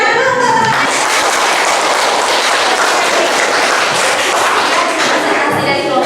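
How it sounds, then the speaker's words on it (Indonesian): Steady applause for classmates after a school presentation, a dense crowd clapping at full volume for several seconds, with a brief voice at the start. "Tepuk tangan dulu untuk teman-teman."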